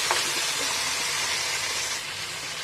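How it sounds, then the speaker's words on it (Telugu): Freshly washed mutton sizzling as it drops into hot fried onions for a mutton curry, a steady loud hiss throughout with a slight fade near the end, no voices. "ఇప్పుడు మటన్ అనేది ఫ్రెష్గా కడుక్కున్న మటన్ అనేది ఇప్పుడు ఇందులో వేస్తున్నాను"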